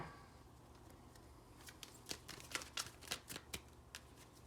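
Tarot cards shuffled by hand, a quiet run of soft riffling flicks that grows into a cluster of sharper, closely spaced card snaps toward the end, with no talking.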